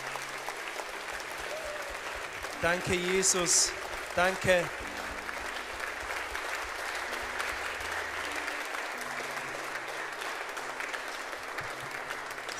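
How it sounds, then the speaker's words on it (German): A church congregation at a confirmation and baptism-renewal service applauds in steady, sustained clapping, while someone speaks briefly over it and a short burst of voices rises partway through before the clapping carries on alone. "geben wir ihm einen Applaus"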